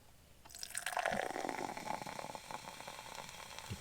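A beverage is poured steadily into a glass, a continuous close splashing and fizzing liquid sound lasting several seconds, with no talking.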